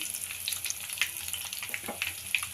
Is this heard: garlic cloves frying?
yes